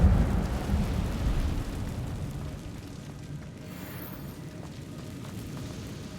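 In the Hogwarts Legacy video game, the Incendio fire spell is cast inside a cave, releasing a loud, deep rumbling whoosh of flame that roars at first and then fades into a softer crackling hiss, with no speech.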